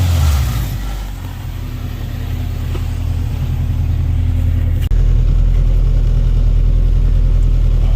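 Acura Integra with a steady engine drone close by as it idles and moves off, a low rumbling hum throughout, with a brief thump near the middle and no talking.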